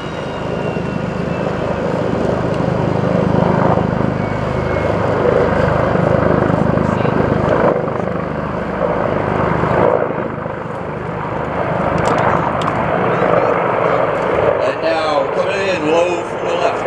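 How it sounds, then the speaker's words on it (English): A UH-1N Huey helicopter approaches the landing zone at a military airshow, its rotor and engine drone loud and steady, swelling and shifting as it nears, while an announcer talks over it. "Low from the left, one UH-1N Huey helicopter is approaching."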